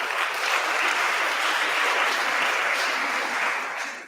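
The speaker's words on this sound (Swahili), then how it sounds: "Ningependa kwanza kila mtu ajipigie makofi." Students and staff at a girls' school biology contest applaud together, a loud, thick, continuous roar of clapping that fades slightly at the end.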